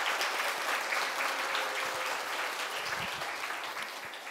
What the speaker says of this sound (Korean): darle un fuerte aplauso a ellos